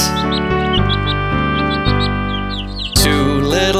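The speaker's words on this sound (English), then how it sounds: "Oh, look at those two Dickie birds." Small cartoon birds chirp in quick, bright tweets over a cheerful preschool nursery-rhyme backing track, the chirps repeating rhythmically above the music before a louder swell at the end.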